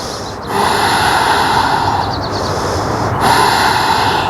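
Heavy, steady breathing during a power yoga session, a continuous loud breathy rush with sharper snort-like inhales and exhales near the start and again around the three-second mark, with no talk.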